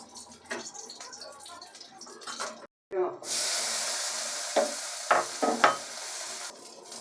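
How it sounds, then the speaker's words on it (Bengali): Hot oil sizzles loudly and steadily in a wok after a brief pause as green chilies and nigella seeds are added, with a few clinks and stirring sounds; a voice talks before the sizzle starts. "কড়াইতে আমি কিন্তু তেল দিয়ে দিয়েছি তেল মধ্যে দিয়ে দেবো ফোড়নের জন্য"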